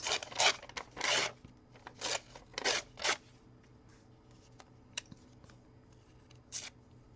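Paper being torn by hand into horizontal strips for a junk journal, a series of short, close ripping bursts in quick succession, then a quieter pause and a couple of fainter tears near the end.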